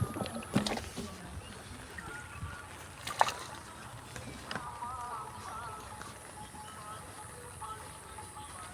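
A small makeshift raft is rowed like a boat on water during rain in Silchar, Assam, with faint paddle splashes and a few sharp knocks over a soft steady background.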